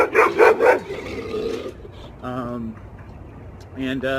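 A small dog gives a few quick, high yips and barks, with short whimpery sounds between them.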